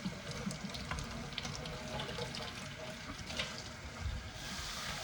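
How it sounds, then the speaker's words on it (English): Tap water runs while a Canoly C16 cold press juicer is rinsed, a close, splashing rush into a sink with small surges and clatters as parts shift under the stream; no talking. "Go ahead and kick up the water just a little bit."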